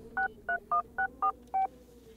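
Six short, clear keypad tones sound as a phone number is dialed. They come in an even, quick rhythm, close and moderately loud over a faint room hum, with no talking.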